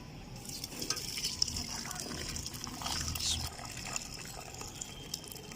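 Cooked tamarind and plum sharbat trickles and splashes through a sieve, a soft continuous liquid pour up close with faint clinks of the utensils.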